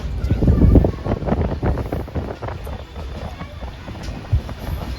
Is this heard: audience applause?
no